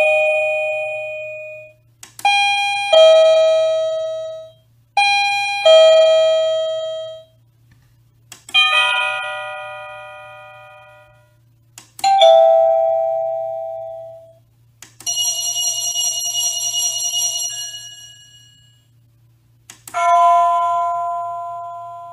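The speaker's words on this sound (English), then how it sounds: "first change your doorbell's chime" A wireless doorbell plays a series of different electronic chime ringtones one after another, each a bright melodic ding-dong or short tune with decaying notes, loud and clear, with a faint steady hum underneath.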